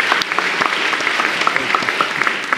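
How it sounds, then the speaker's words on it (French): A lecture audience at Sciences Po Paris claps enthusiastically, with loud, close hand claps standing out sharply over a dense, continuous round of applause. "on peut l'applaudir bien fort"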